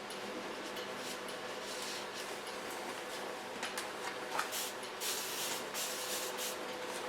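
Misting spray from a bottle dampening natural grey hair during a haircut, a soft hiss that rises in short bursts and otherwise runs as a faint continuous background.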